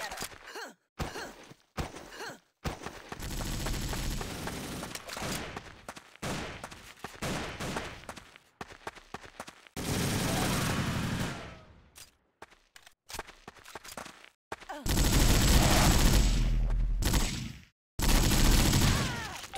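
Bursts of MP7 submachine-gun fire from the online shooter WarRock, loud and rapid, arrive in several separate volleys with short quiet gaps between them.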